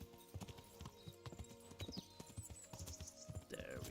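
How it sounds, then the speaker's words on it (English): Hoofbeats of a tired horse in the medieval video game Kingdom Come: Deliverance, a steady clip-clop rhythm with snorting and a faint whinny near the end, fairly quiet. "is my horse making sound because it's getting tired."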